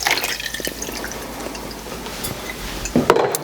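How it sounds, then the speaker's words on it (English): Wild rose liquid pours and strains through cheesecloth folded several times over a strainer, giving a steady soft trickling and dripping wash with occasional splashy drops near the end, close and moderately quiet. "we're gonna strain it using some cheesecloth folded over a couple of times"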